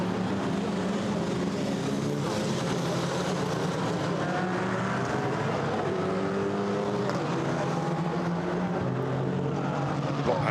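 GT4 race cars stream onto the circuit at Monza during GT4 European Series qualifying, their engines making a dense, continuous roar from several cars at once, rising and falling steadily with no pause.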